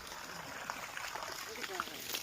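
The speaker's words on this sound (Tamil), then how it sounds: "தென்னஞ்செடிக்கு தண்ணி பாய்க்கிறாங்க." Irrigation water runs steadily to young coconut plants in a home garden, a continuous soft rushing and trickling heard under people talking.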